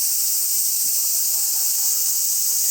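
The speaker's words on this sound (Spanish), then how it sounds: "Puede que tengamos cigarras, señores." Cicadas in Kamakura, Japan drone in a loud, continuous high-pitched buzz that holds steady throughout, with no voices.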